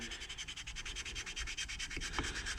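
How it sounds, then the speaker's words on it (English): A flat stone rubbed back and forth across the surface of a Raptor 350 cylinder head makes a steady, rhythmic gritty scraping, close and fairly quiet, with quick regular strokes and no talk. "Just make sure you keep the stone flat on the surface."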